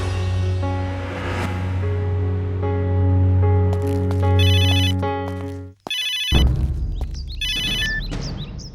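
A telephone ringtone rings loudly over a sustained musical drone, with bright repeating electronic chimes that cut off abruptly, then resume in shorter bursts.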